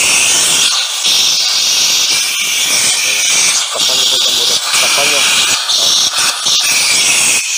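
An LPG tank for a Superkalan burner vents gas in a loud, steady, high-pitched hiss that runs throughout, with someone talking over it.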